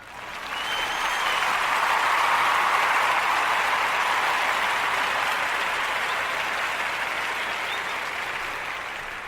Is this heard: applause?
yes